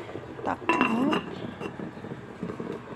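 A lid is set onto a cooking pot of lutos root and pork soup, giving a short metallic clink and ringing clatter at close range, followed by quieter kitchen rustle.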